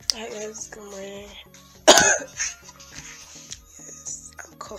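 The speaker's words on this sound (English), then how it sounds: "Yes, I'm coughing." A single sharp cough bursts out near the mic, framed by quieter talking before and after.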